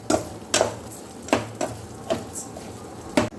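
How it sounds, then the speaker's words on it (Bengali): Gobindobhog rice being stirred into caramelized sugar in a pan, a soft sizzle beneath repeated scraping strokes of a spoon against the metal, about seven distinct strokes at an uneven pace. "এইবারে ভালো করে এটাকে আমি নাড়িয়ে দেব।"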